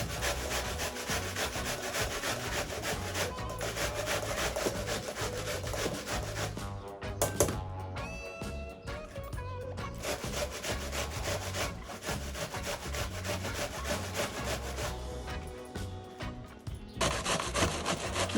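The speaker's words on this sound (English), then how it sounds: "this is the sides I use to grate my vegetable" Cabbage grated on a four-sided grater for coleslaw, a continuous loud, rhythmic rasping of back-and-forth strokes, close up, with a few brief pauses.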